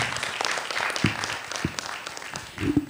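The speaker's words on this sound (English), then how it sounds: "please give a round of applause for our great speaker" Audience applause after a presentation at an international renewable energy conference: a scattered burst of clapping that fades in and out over a few seconds, with a louder swell near the end.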